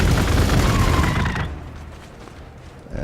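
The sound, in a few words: gunfire from units in the video game Warhammer 40k Gladius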